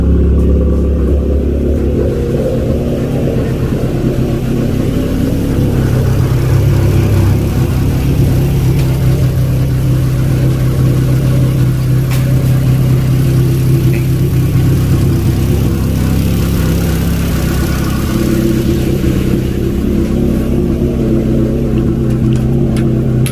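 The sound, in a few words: car engine running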